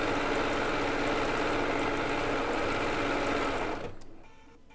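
A Bernina B990 sewing machine runs steadily, stitching decorative stitches onto quilt binding with variegated black and white thread, a close, even mechanical whir with rapid needle pulsing that winds down and stops near the end.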